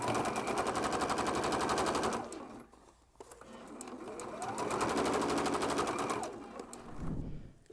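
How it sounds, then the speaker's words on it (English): Sewing machine stitching an IKEA pillow cover, a rapid mechanical rattle in two bursts with a short pause between, close and fairly loud, no talking. "I finished sewing around all 4 edges on my pillow cover"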